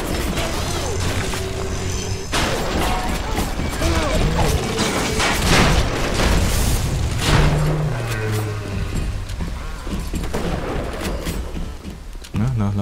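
Weapon reloading in BioShock, dense mechanical clicks, ratcheting and metallic clatter mixed with crashes and game effects, loud and busy throughout, with someone talking over it.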